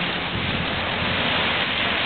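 Steady rain falls outside by a porch where chickens shelter, heard as a dense, unbroken hiss at an even level with no voices.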